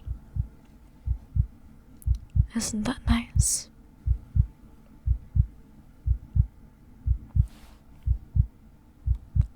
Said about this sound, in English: listen to the sound of my heartbeat